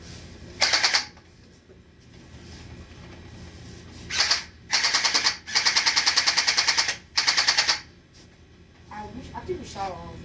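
A gel blaster Glock toy gun fires in several sharp, rapid bursts of mechanical clatter, close and loud, with gaps between them. A voice is heard briefly at the end.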